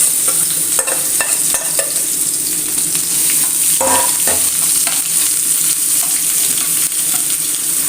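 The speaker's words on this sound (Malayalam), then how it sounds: "ഇതൊന്ന് നന്നായി ഈ ഓയിൽ ഈ വെളിച്ചെണ്ണയിലൊന്ന് നല്ലോണം മൂപ്പിച്ചെടുക്കാം" Masala fries in coconut oil while mackerel is being prepared, giving a steady loud sizzle with scattered crackles and a few stirring scrapes, and no one speaks.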